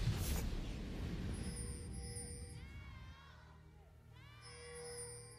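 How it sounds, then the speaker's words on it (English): Arena crowd at a League of Legends esports playoff match, Edward Gaming versus Newbee in the LPL, fills the hall with loud broad roaring and shouting, swelling and fading with a few whoops over a few seconds. "And that crowd has some energy, Raz."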